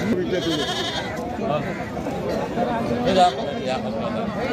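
Male breeding goats bleat at the busy Dhelapir livestock market in North Bengal, their calls rising over constant crowd chatter and nearby talking voices.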